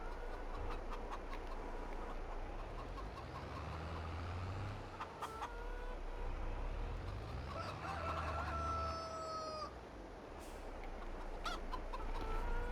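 Chickens cluck and a rooster crows repeatedly in the farm game Farming Simulator 22, the calls spread across a busy background with a low vehicle rumble rising and falling.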